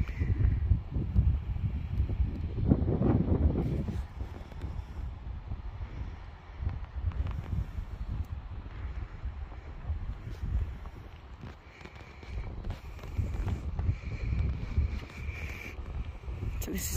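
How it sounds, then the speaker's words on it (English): Gusty wind buffets the microphone with low rumbling bursts that rise and fall, and a faint voice comes through at moments. "It's so windy down here."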